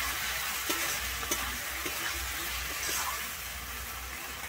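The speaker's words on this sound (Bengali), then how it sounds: "আমি ক্যাপসিকামটা দিয়ে এবারে কিন্তু একটু মশলার সঙ্গে কষিয়ে নিচ্ছি।" Capsicum stir-fried with masala in a pan for a Bengali fish curry, a soft steady sizzle with faint stirring clicks and scrapes close by.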